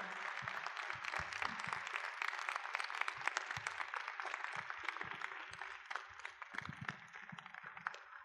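Audience applause for a major at a military unit's annual review ceremony, a steady, fairly faint patter of many hands clapping that continues for the whole stretch without talk.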